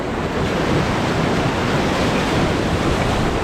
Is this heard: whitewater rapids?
yes